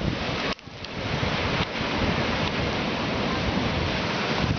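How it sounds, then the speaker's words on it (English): Ocean waves crash in along a rocky tide-pool shoreline, a continuous roaring wash with brief dips, loud and close, overlaid by wind rumble on the microphone. "Look at the waves come crashing in."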